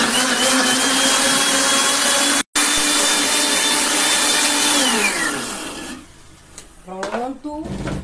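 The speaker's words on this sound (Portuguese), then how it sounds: "Tudo dentro do liquidificador, com um copo com água. E agora vamos bater pra tomar" A blender whirs loudly and steadily while blending carrot, ginger, orange and pineapple with a glass of water, its pitch sliding down as it winds off near the end, followed by a few rattling clinks.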